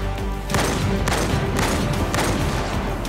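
Rapid gunfire from a shooter video game, several loud bursts of shots and booms in quick succession, dense and continuous with no talk over it.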